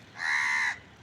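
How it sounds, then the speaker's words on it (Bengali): A crow gives a single loud, drawn-out caw up close, lasting about half a second and heard on its own with no talking. "কাক যে কাকা করতেছে তা দেখেছিস?"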